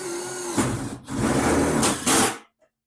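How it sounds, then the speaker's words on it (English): Power drill driving self-tapping screws into the front inner fender of a Volkswagen Beetle under restoration, with two close, loud whirring bursts separated by a brief pause, then silence. "Just putting in some self-tapping screws in."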